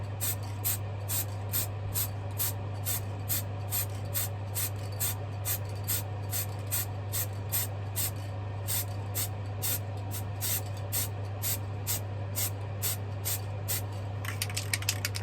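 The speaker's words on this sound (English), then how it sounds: "Look at how far away I'm spraying from." Rapid, regular bursts of spray paint hiss as a matte white base coat goes onto a 3D printed action figure head, held at a distance, steady puffs repeating close by with no talking and a low mains hum beneath.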